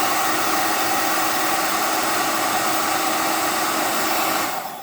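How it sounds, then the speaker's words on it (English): A hair dryer blows hot air on an action figure in a steady, loud, close whoosh that holds for several seconds and then cuts off abruptly at the end. "Movements and constant hairdryer heat."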